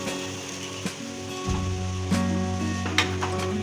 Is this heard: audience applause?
no